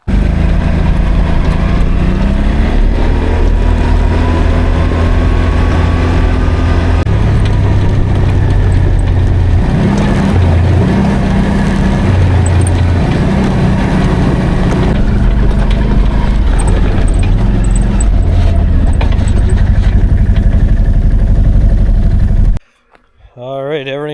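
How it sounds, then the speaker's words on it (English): Motorbikes riding a forest trail: a continuous close engine drone with shifting revs and gear changes runs throughout, then cuts off abruptly near the end. "So I'll get back on the bikes and see what's up ahead."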